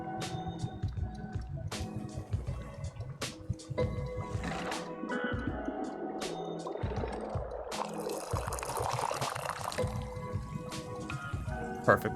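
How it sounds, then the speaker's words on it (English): Tea being poured into a cup in the Wanderstop video game, a trickling liquid pour that builds in the middle, set among scattered game clicks and chimes, with a voice speaking at points. "Perfect pour."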